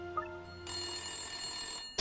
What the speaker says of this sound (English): Oh, there's the phone.